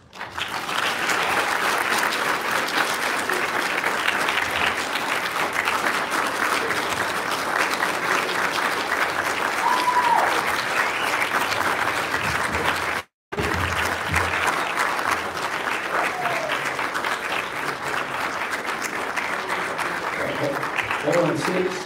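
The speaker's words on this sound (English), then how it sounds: "Thank you for that wonderful applause" Sustained audience applause at a live memorial fund presentation fills the space, dense and steady, with a brief cut partway through before the clapping resumes.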